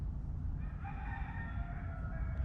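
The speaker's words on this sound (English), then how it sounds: "I hear the stupid chickens hollering." A rooster crows at a distance over a low, rumbling outdoor background, one drawn-out call that rises and holds before fading.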